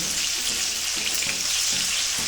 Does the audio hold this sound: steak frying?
yes